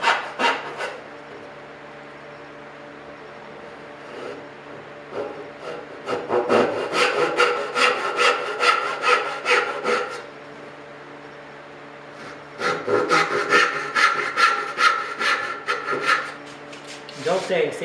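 A hand saw cuts dovetail joints in wood in a hobby workshop. Steady back-and-forth rasping strokes come close and loud in two long runs, with quieter scraping and a pause between them.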